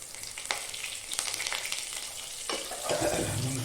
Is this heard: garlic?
yes